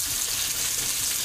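Food fries in a pan with a dense, even sizzle that stays loud and steady throughout a brief stretch.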